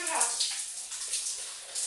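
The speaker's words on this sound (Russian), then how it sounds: "сейчас буду принимать душ" Shower water running steadily nearby, a bright continuous hiss of spray and splashing with no break across the short stretch.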